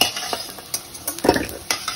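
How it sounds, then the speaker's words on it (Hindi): Fried potato pieces are lifted out of hot oil for a mutton fat curry, with soft bubbling oil, scraping of a slotted spoon and light metallic clinks against the pan, close and brief. "आलू को अभी ऑयल से निकाल लेती हूँ।"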